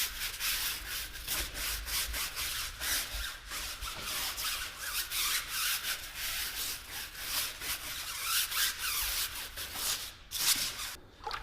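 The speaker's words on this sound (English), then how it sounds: "we're ready to use our stiff bristle tire brush to start cleaning the rubber of the tire" A stiff bristle brush scrubs the rubber of a car tire in quick, steady back-and-forth strokes, a close, dense rasping that continues without pause and without any talking.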